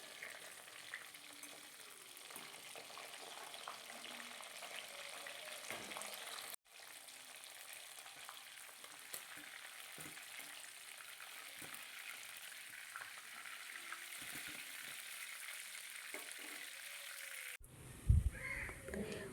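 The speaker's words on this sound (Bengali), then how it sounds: "মাছ আমার ভাজা হয়ে গেছে" Steady sizzling of fish frying in hot oil, close and continuous, with a brief break and a few clatters near the end.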